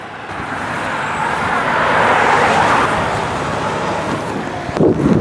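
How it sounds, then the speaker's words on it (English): A truck turns around on a road ahead of a DUI checkpoint, its engine rumble swelling and easing over steady roadside traffic and wind noise, with a short knock near the end. "This truck just turned around too"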